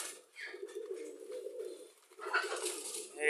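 Racing pigeons coo in a low, continuous rolling murmur, nearby and fairly soft, with a few brighter calls breaking in near the end.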